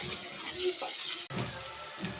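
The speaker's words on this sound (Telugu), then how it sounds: "ఈ నూనెలో పచ్చివాసన పోయేదాకా వేయించుకొని" Cut bommidi fish fry in hot oil with onion and green chilli. A steady, close sizzle fills the pan, with a brief break in the middle and faint stirring.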